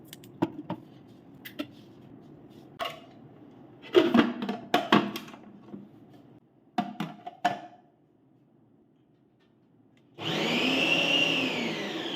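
Scattered clatter and knocking, then a mixer grinder whirs up loudly near the end and keeps running steadily.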